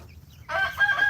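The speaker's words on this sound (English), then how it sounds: "You must be a rooster." A rooster among backyard chickens gives a short burst of raspy clucking, close and fairly loud after a brief near-silence.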